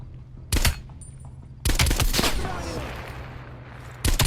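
Loud, close gunfire in Call of Duty: Black Ops Cold War: a sharp shot, then a longer rattling burst that echoes and fades, and another shot at the end.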